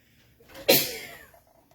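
A single sharp sneeze bursts out close by, loud and brief, then trails off into quiet.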